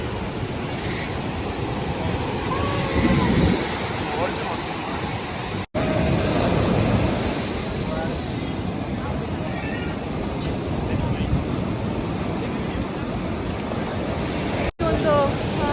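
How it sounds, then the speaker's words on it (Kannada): Strong ocean waves crash and roll onto a beach beside a seaside cafe, a loud continuous surf roar mixed with wind buffeting the microphone, the sound of each wave rising and falling in turn. "ವೇವ್ಸು ತುಂಬ ಜೋರಾಗಿ ಬರ್ತಾ ಇದೆ ನೋಡಿ."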